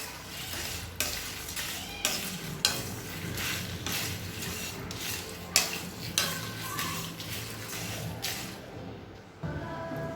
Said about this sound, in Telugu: అన్నీ కూడా దీనిలో వేసేసి చక్కగా వేయించేసుకోండి